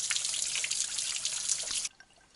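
Water trickles and splashes steadily from small falls on the Foothills Trail as it is gathered, a bright continuous patter that stops abruptly near the end.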